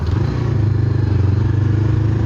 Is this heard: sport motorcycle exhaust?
yes